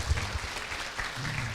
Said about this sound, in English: Once again, give a big applause for Professor Kim.